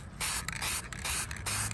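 Cheap aerosol spray paint can hissing onto a 1957 Chevy in several close, loud bursts with brief pauses between them.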